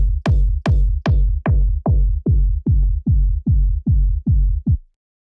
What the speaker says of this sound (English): The focus for the kick is to have a dull kick.